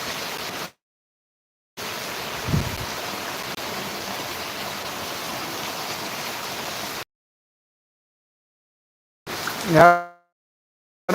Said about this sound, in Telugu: వాన్ అయితే భారీగా వస్తుంది వంక పాడుతుంది